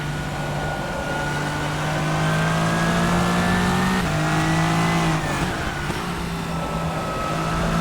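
LMD Hypercar from rFactor 2 racing at speed, its engine a loud sustained drone with rising and falling pitch through gear changes, steady and close throughout with no talk.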